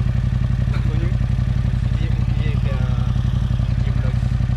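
A motorcycle engine runs steadily at close range with a continuous low throbbing drone and faint clatter, heard alongside road wind noise.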